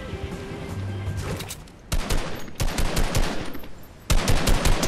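Automatic gunfire from a Fortnite match, dense rapid bursts with a short lull before repeated louder volleys, close and sharp throughout.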